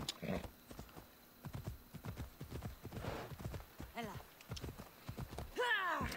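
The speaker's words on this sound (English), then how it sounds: "there's that damn horse." A horse in the video game Assassin's Creed Odyssey clip-clops in a steady rhythm of hoof beats, then whinnies near the end, while a voice talks over it.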